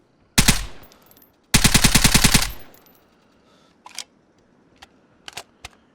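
Bursts of automatic gunfire in the video game Vigor: a short volley, then a longer rapid string of sharp shots, followed by a few faint, scattered distant cracks.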